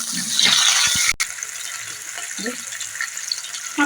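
Half a tomato and green chillies with cumin seeds hit hot oil in a pan, giving a bright burst of sizzle that fades to a steady low crackle, with a voice speaking over it.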